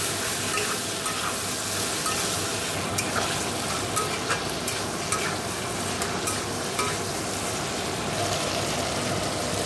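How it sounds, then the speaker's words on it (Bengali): Vegetables cooking with salt, turmeric and sugar are stirred in a pan, a loud, close, continuous sizzle broken by regular light scrapes and taps of the spatula against the pan. "নুন হলুদ মিষ্টি দিয়ে ভালো করে নাড়াচাড়া করছি।"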